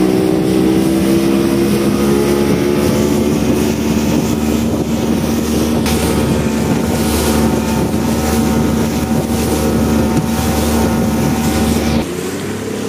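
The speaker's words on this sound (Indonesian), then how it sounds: "korang boleh tengok kelajuan Yamaha 90 horsepower" A speedboat powered by a Yamaha 90 horsepower outboard races across the sea between islands, its engine a loud, steady drone with wind buffeting the mic throughout, easing slightly near the end.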